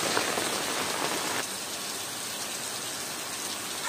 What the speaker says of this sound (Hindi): बाढ़ देखिए, कुछ इस तरह से पानी का बहाव देखिए